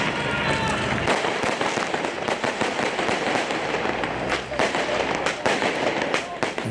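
Protesters in Paris fire fireworks at police in a rapid, overlapping stream of sharp bangs and crackles over a constant roar of street noise, loud and close, with crowd voices mixed in.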